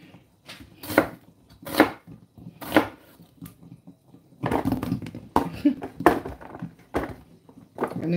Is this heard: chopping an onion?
yes